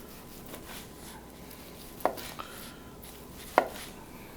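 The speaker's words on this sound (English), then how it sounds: "So we're going to slice this one up like it's half of it." Pork is sliced with a knife on a cutting board for a Cajun stir fry, giving two or three sharp knocks against the board over a quiet kitchen background.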